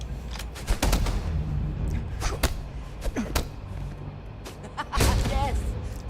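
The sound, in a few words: gunfire in the Starfield video game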